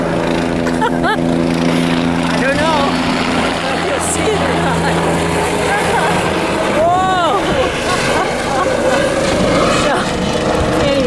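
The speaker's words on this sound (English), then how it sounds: "And there goes a rescue helicopter up above." A rescue helicopter passes overhead near Bell Rock, a steady droning engine hum heard outdoors beneath nearby voices talking.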